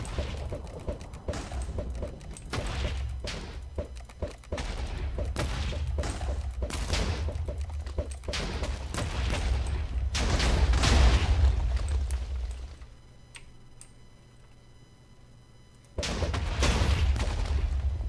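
Repeated crossbow shots from the Minecraft modpack Project Ozone 2, a rapid, dense run of sharp bursts and booms stacked over game noise, loud and busy for most of the stretch, with a brief lull before a final flurry.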